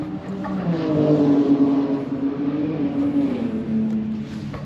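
A BMW drives on the Knockhill race track, its engine a loud, steady drone that swells slightly as the car runs past at speed.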